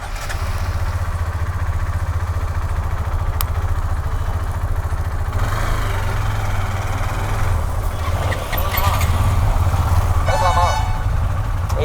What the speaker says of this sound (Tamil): சைடு ஸ்டாண்ட் எடுக்காமல் வண்டி ஸ்டார்ட் பண்ண பார்க்குறேன்.